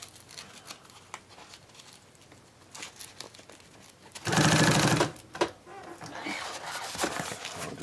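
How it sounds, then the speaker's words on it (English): A sewing machine stitches Velcro onto a radio box liner in one loud burst of under a second, surrounded by quieter rustling and handling of the fabric. "I'm just going to go ahead and stitch it on now"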